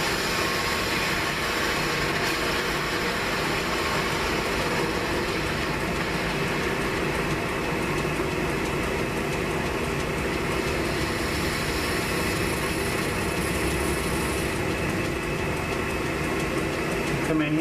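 A lathe turns a part at 800 RPM with a Kennametal boring bar extension, giving a steady, loud machine drone with a constant mechanical hum that holds unbroken throughout.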